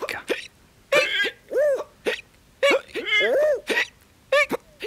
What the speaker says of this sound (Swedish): Och sen fick farfar hicka.